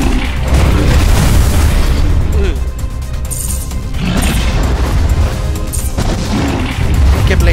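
Missile launches and explosions in the video game MASS Builder, a run of loud, dense booms and crashing blasts that swell and fade in waves across the stretch, heavy and close with a sustained roar between impacts.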